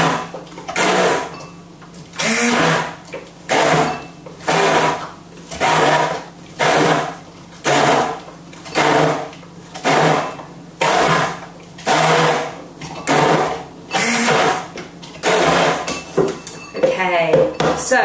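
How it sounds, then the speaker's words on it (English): A Kenwood Tri-Blade 700-watt hand blender whirs through mango porridge in repeated short bursts of about a second each, with brief pauses between them and a voice talking near the end. "My hand blender is a Kenwood Tri-Blade 700 watts, so it's a really good one."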